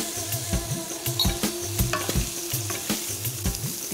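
Ground coriander, garam masala and turmeric sizzle in a pan while a spoon scrapes the bottom in a steady, repeated rhythm of close, clattering strokes over a continuous frying hiss.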